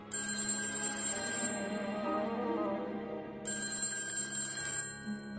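Telephone ringing effect in the anime Inazuma Eleven, a continuous electronic ring with a steady tone and a brief gap partway through, heard alone without any talk.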